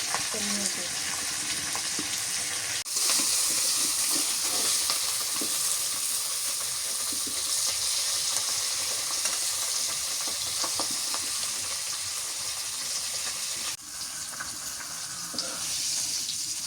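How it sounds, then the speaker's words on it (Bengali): Fish frying in a pan in a village kitchen gives a steady, loud, crackling sizzle that lasts the whole time, with brief dips near the start and end. "মাছ ভাজি হয়ে গেছে, নামাই"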